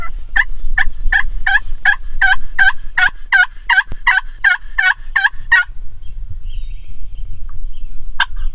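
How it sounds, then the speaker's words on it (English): A wild turkey on a hillside in Pennsylvania in May gobbles in a fast, rattling series of about fifteen rhythmic pulses, loud and clear against quiet outdoor air, then one more short call after a pause. "We hear birds gobbling all over the hillside."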